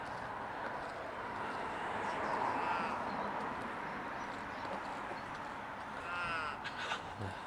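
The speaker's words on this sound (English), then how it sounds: "There's the crow welcoming us to the suburb of Karawara." A crow caws twice on a suburban street in Karawara, Perth, Western Australia, clear and moderately close over a constant outdoor traffic hum.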